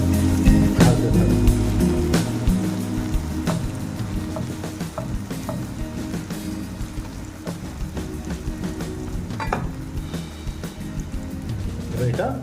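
Onions fry for biryani birista in a pan with a steady, close crackling sizzle, broken by occasional scraping stirs and clinks over the whole stretch.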